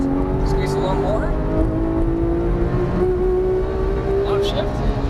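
Porsche 991 GT3 engine on a race track at Auto Club, a loud sustained high-pitched whine that rises steadily under throttle, heard from inside the car over heavy road and wind roar, with a person talking over it.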